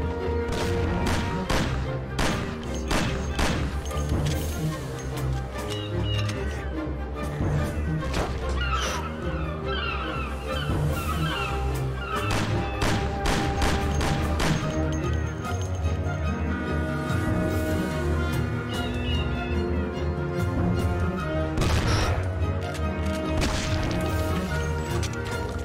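Gunfire rings out in the Mafia video game, with rapid irregular shots and smashing impacts piling up in a dense, continuous firefight over a steady backdrop.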